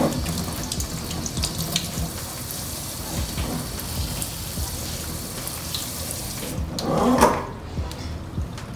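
Water pours and trickles steadily over a homemade moss pole as it gets a thorough soaking, a continuous close splashing like a running tap, swelling briefly near the end.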